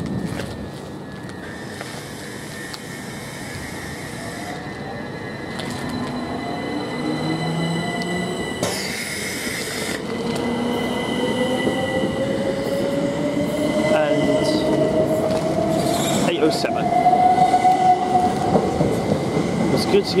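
A Class 375 electric train pulls away from Tunbridge Wells station, its motor whine rising steadily in pitch as the rumble grows louder, with faint squeals and clicks along the track.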